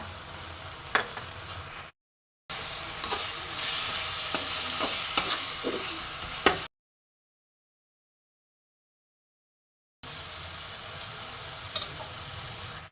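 Garlic paste fries in a pan for a tangy, spicy katla fish curry, a close sizzling hiss with a few stirring clinks, interrupted by stretches of silence.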